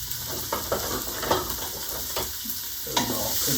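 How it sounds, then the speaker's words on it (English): Chopped onions sizzle and fry in the hot pot of an Instant Pot, with a steady crackling hiss and occasional soft stirring scrapes, close and continuous. "So let me put the onions in here and let them start."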